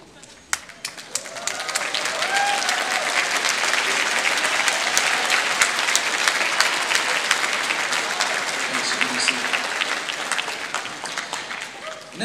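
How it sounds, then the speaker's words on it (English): Sustained audience applause for standing parents and guardians at a school honor band concert, rising after the first couple of seconds into a full, steady roar of clapping that holds loud across the room. "will you please stand so we can give you a round of applause?"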